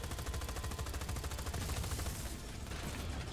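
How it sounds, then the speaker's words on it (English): A machine gun fires continuously in the video game Just Cause 4, producing a rapid, evenly spaced stream of shots that stays steady and loud for the whole stretch, with a slight change in tone near the end. "So, we've got a machine gun that is also deployable cover."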